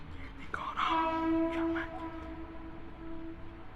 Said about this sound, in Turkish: İşte sevdiğim korna modeli bu arkadaşlar.